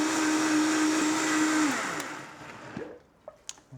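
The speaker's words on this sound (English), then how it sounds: "and just blend that up" Countertop blender whirring steadily as it blends coconut oil into a vegan mozzarella mix, loud and continuous, then winding down and stopping, followed by a few light clinks.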